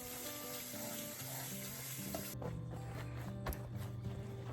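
Steady, dense sizzling of chicken fried steak frying in hot grease, continuous and close with a few light clicks and stirring noises, southern Georgia style.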